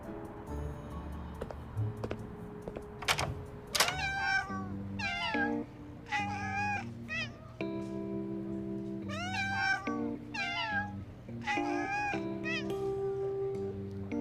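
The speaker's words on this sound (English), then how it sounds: "the constant meowing creeped me out" Cats meow repeatedly in a late-night cat cafe scene from the Love and Deepspace video game, several distinct meows over soft background music and light clicking.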